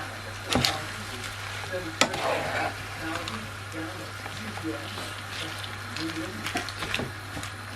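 Prawns sizzling in a pan for sweet chilli honey prawns, a steady crackling fry under a low hum, with a few clacks of a utensil.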